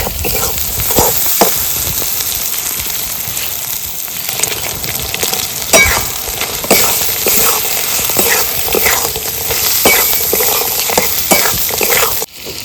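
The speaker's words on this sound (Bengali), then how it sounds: "কাঁকড়াগুলো ভেজে রেখেছিলাম এগুলোকে মশলার মধ্যে দিয়ে দিচ্ছি" Fried field crabs stirred into a loudly sizzling spice masala in a pan, with a constant close crackle and frequent scraping strokes throughout.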